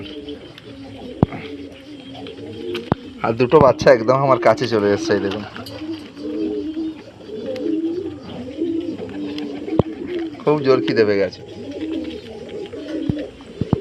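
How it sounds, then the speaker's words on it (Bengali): Pigeons coo repeatedly while being fed grain in the late afternoon, young birds crowding close; the low, rolling calls continue steadily throughout, with a person talking over them. "ভিতরে পায়রা কিন্তু অনেক ডাকছে"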